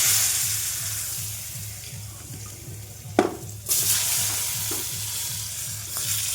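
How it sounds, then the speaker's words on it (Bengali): Potatoes fry in a wok after a chili has been cracked into hot oil, a steady close sizzle running throughout with a spoon stirring and scraping and a brief louder clatter partway through. "কড়াই একটা লঙ্কাকে ফাটিয়ে দিলাম, দিয়ে আলুগুলো ভেজে নেবো আগে।"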